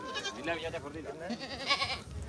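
Goats bleat in overlapping, wavering calls at the Dhanaula goat market, a weekly Wednesday livestock market, mixed with close voices talking over them.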